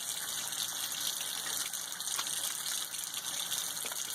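Running water gushing steadily over a handcrafted soap bar as it is lathered, a constant hissing splash at moderate level with no talking.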